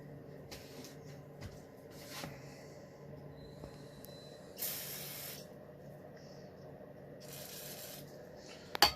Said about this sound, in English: Spray it with some brake cleaner that I have right here real quick.